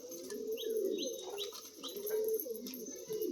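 Four pigeons gather close together and coo softly in low, repeated throaty phrases, with a few faint higher chirps mixed in against a quiet background.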